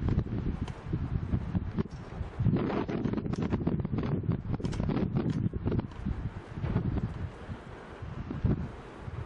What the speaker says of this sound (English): Wow, it really was quite windy, wasn't it?